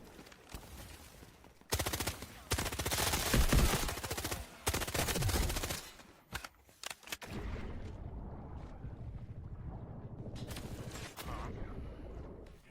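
Gunfire in the video game Delta Force: a dense burst of rapid automatic shots for several seconds, then scattered single shots over a steady rushing, water-like background ambience.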